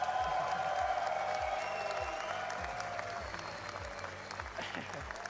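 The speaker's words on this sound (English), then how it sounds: "hearing you guys cheer for us is literally, I don't know, it fuels me, fuels the team" An audience at an RLCS Major 1 quarter-final esports watch party claims and cheers steadily, a dense wash of clapping with scattered shouts heard from within the crowd while a voice talks faintly underneath.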